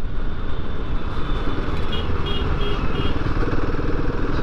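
A Himalayan 450 motorcycle being ridden: a continuous, loud engine rumble blended with road and wind rush, steady throughout with no voices.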